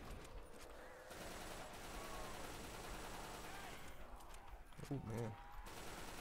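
A UMP submachine gun fires in a zombies video game, with quiet bursts of shots under a continuous game din, a louder volley near the end, and someone speaking briefly.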